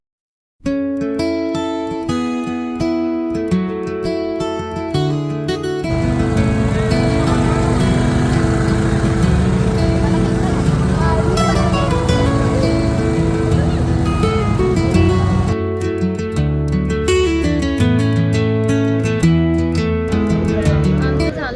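A motorboat runs on the Narmada river at Omkareshwar with a loud, continuous engine drone that swells and holds steady through the ride, with voices faintly under it.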